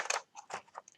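Scissors snip through paper in a few quick, close crisp cuts, faint and alone, while cutting out a rosette drawn with a compass.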